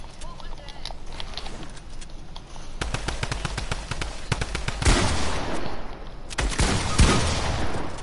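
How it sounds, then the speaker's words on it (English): A Fortnite drum gun fires in rapid bursts of crackling shots, with a dense stretch of automatic fire followed by heavier single booms, all over steady game background noise. "I should use my drum gun more often"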